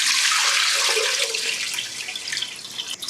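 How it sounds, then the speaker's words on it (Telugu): Water from soaked moong dal drains through a strainer in a continuous gushing pour, strong at first and thinning to trickles and drips toward the end. "సో ఇప్పుడు ఈ వాటర్ అంతా స్ట్రెయిన్ చేసేస్తాం"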